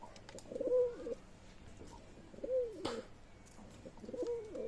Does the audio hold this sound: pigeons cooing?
yes